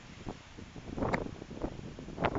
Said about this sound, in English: it just got windy all of a sudden